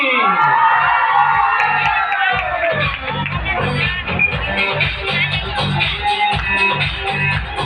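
A crowd at a live event cheers and claps, with a prize of gold earrings awaiting the winner. Loud whoops and shouts rise at first, then settle into rhythmic clapping mixed with lingering cheers.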